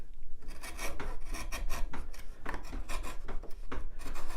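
A sharp chisel rasps and scrapes through rough pallet wood in quick, close strokes, continuous and gritty with no talk over it.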